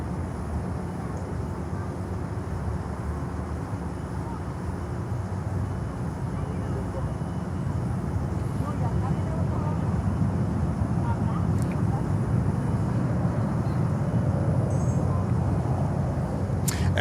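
A LATAM Cargo Boeing 767-300 passing near an airport, its engines a steady, broad, loud roar that holds through the whole stretch with a slight swell toward the end.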